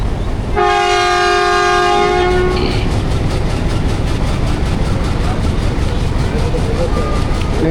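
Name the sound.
Millat Express passenger train moving out of Tinga railway station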